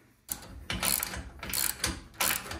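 A ratchet wrench tightens a nut on a trailer hitch during assembly, giving bursts of rapid clicking in several separate runs, close and fairly loud with no talking.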